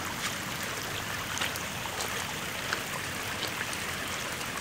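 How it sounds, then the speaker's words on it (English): Heavy rain pours down in a dense, constant hiss while runoff water rushes like rapids along a path, loud and steady with scattered drop splashes and no voices. "Gonna take a little bit more rain footage here."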